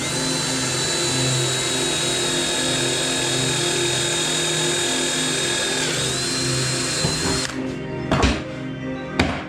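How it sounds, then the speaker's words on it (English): A power drill whines at a steady high pitch as its bit cuts into wood, running loud and continuous for several seconds before winding down, followed by a few knocks and thuds. "I'll drive that bit while it's making the cut"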